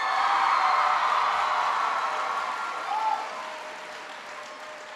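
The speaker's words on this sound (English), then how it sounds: "Give Kelly a big round of applause." A student crowd in Philadelphia claps for a young introducer at an Obama address; the applause is a broad, fairly distant wash that gradually fades.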